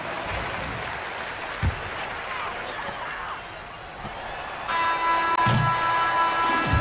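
Home crowd applause in a basketball video game, a Euroleague-style cyber cup match, rising as a broad steady roar over several seconds after the victory, with a commentator talking over it.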